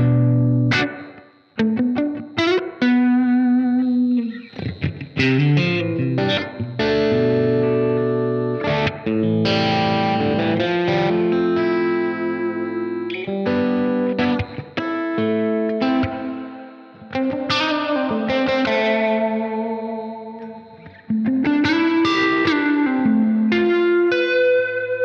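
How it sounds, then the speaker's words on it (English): Electric guitar played through a Blackstar Amped 2 pedal with a wide room reverb, ringing distorted chords and single notes with a spacious, chorus-like wash, continuous and alone. "Let's add a whole lot of that wide room sound into it."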